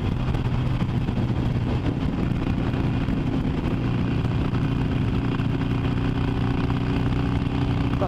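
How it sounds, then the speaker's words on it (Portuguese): A Harley-Davidson Fat Boy motorcycle engine on a ride out along the BR 101 highway: a steady, low rumbling drone that holds level throughout without clear rev peaks, heard close amid road and wind noise. "Nossa, acelerando a Fat Boy."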